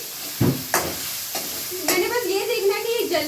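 Chicken, potato and chickpea saalan stirred in a pan gives a soft sizzle with a few distinct spoon scrapes and knocks, close and fairly clear.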